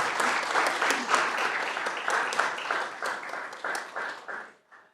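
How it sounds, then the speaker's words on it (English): A room full of people at a county board of commissioners meeting applauds award recipients, a dense, steady patter of many hands that carries on for several seconds before tapering off at the end. "would you all give them a round of applause?"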